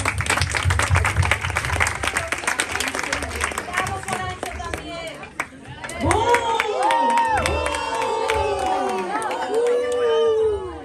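Audience at a school Christmas festival applauding after a student performance: loud, dense clapping with cheers and crowd chatter that gives way midway to voices singing and shouting over the dying applause.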